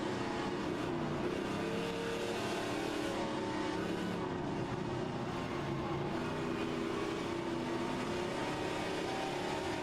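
A Plymouth Cuda race car engine drones and revs continuously in a Trans Am racing video game, a steady mid-volume roar with shifting pitch and no talk.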